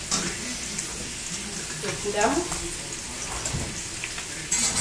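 Tomatoes roast on a small supermarket grill, giving a steady close sizzle and crackle throughout, with a brief clatter near the middle and a short spoken word at the start.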